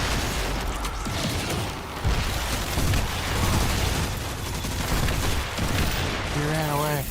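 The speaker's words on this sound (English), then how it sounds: "Yeah, rocket launcher." Rocket launcher explosions and gunfire in the video game Destiny 2, a dense continuous barrage of booms and blasts with a short rising electronic tone near the end.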